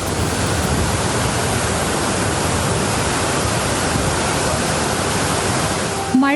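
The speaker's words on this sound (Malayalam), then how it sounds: "ഇടുക്കിയുടെ മനോഹാരിതയ്ക്ക് മാറ്റുകൂട്ടുന്ന ഒന്നാണ് നെടുങ്കണ്ടത്തെ തൂവൽ വെള്ളച്ചാട്ടം" Thooval waterfall at Nedumkandam in Idukki, swollen by monsoon rain, roars as a loud, dense, unbroken wash of falling water that cuts off abruptly just before the end.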